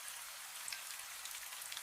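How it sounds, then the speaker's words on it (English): Soft rain patters steadily in a faint, even hiss with scattered tiny droplet taps, quiet and close, with no voice. "The rain taps softly against your sleeves."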